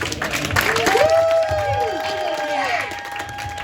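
Comedy club audience applauding and cheering after an open-mic stand-up set at the Loony Bin, a brief burst of clapping and whoops that swells then fades, with a voice speaking over it.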